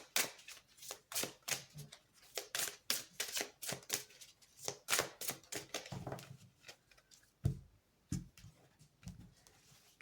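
Tarot cards shuffled and drawn by hand, a quick run of crisp riffling and slapping bursts in an uneven rhythm, close and fairly quiet, with a brief pause near the end.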